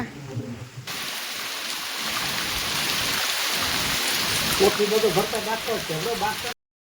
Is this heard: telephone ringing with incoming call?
no